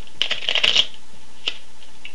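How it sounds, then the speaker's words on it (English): A quick flurry of playing cards being riffle-shuffled, crisp rapid clicks close up, followed by a couple of isolated taps in a quiet room. "I'm just gonna shuffle."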